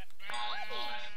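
Sheep bleating in the Minecraft Pixelmon game, a single synthetic wavering bleat that rises and falls for about a second, fairly clear over faint background game audio.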